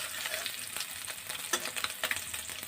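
Morola fish frying lightly in oil for a kul chutney, a steady soft sizzle with scattered crackles and pops, close and alone.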